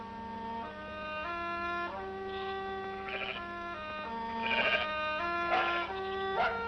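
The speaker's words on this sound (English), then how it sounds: "And now, sheep are returning to this English field" Several wavering sheep bleats in an English field, some near and some farther off, rise over a steady, sustained musical drone.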